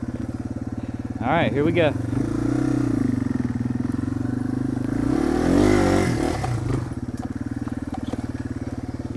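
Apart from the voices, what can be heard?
motorcycle riding up a steep hill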